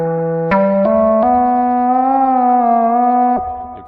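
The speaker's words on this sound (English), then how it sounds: "well, synthesizer sounds like this Analogue Wave." Analogue Wave synthesizer patch on a Yamaha EX5 virtual acoustic modeling synth, a sustained, harmonically rich tone that steps up through several held notes and then bends slightly before fading, played alone and close.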